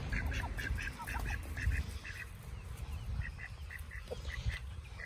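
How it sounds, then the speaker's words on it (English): Ducks quack in short repeated bursts, fairly faint and somewhat distant, with low rumbling outdoor background noise underneath during evening chores with backyard birds. "My ducks."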